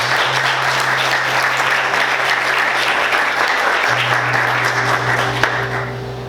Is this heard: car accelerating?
no